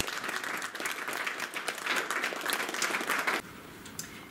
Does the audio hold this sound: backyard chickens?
no